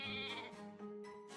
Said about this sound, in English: That poor fucking sheep.